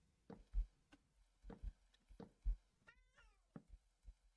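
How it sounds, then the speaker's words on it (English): A domestic cat meows repeatedly close by, a series of short calls in an irregular rhythm with soft thumps between them in a quiet room. "I have a cat calling out for me"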